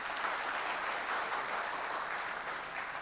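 A crowd claps steadily at a Republic Day kavi sammelan and mushaira in Dubai, a continuous moderately loud wash of many hands with no pause across the whole stretch.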